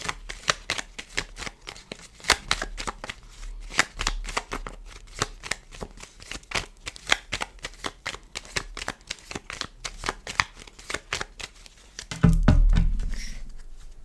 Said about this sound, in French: Allez, je vais prendre des cartes, allons-y.